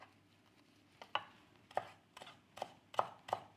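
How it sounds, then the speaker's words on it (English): Knife chopping parsley on a board, a run of six or seven crisp, uneven chops over a few seconds, close but fairly soft, with near silence between strokes and no talk. "just chop it off"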